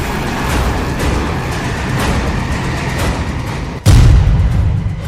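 A bomb explosion erupts as a sudden loud deep boom near the end, following a steady dense rumbling roar and a few fainter thuds.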